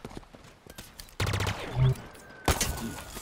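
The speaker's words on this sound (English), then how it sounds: "Oh, I'm being sniped." Gunfire from sniper shots in the Halo Infinite campaign: a few sharp, loud bursts with a booming report, spaced irregularly over a low background of game sounds.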